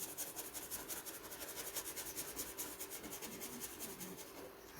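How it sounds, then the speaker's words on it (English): Bristle brush scumbling oil paint onto canvas outdoors beside a watermill on a Roman road along the Portuguese Camino, a steady, soft, rhythmic dry scrubbing of close strokes under faint background hiss, with no voices. "I'm just scumbling in those."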